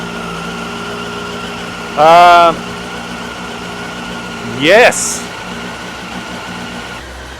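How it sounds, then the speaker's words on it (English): A Honda CBR 954RR motorcycle engine idles steadily with a slightly uneven, rough rumble throughout, while a voice briefly exclaims twice over it. "It's idling a little rough, so I'm gonna let it warm up"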